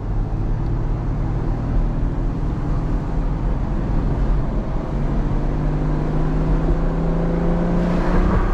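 A Ferrari GTC4 Lusso's 6.3-litre-class V12 climbs steadily in pitch as revs rise past 3000 rpm and the exhaust valves open, a loud, continuous swelling drone heard close up with no talk over it.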